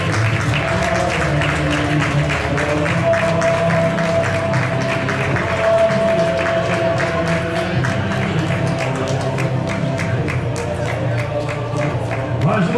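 A stadium crowd at the Maia 2023 athletics meeting applauds a South African runner after her record-setting women's 400m. Dense, steady clapping runs throughout, with an announcer's voice over it.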